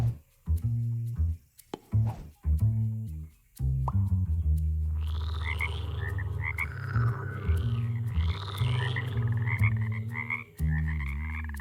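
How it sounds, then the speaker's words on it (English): Frogs croak in musical, rhythmic bursts. Short choppy calls are separated by brief gaps, then swell into a dense, continuous chorus with warbling higher tones, loud and close throughout, with no talking. "These were frogs, and they're very, very musical."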